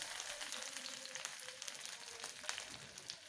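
Green chillies sizzle steadily in hot oil for khaman dhokla, a soft continuous crackle and hiss close by with faint stirring, no voices.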